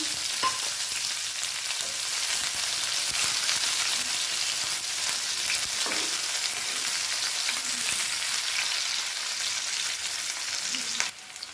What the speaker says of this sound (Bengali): সেই তেলে দিয়ে দেবো শুকনো লঙ্কা, এলাচ দিয়ে দেবো, কুচনো পেঁয়াজ দিয়ে দিলাম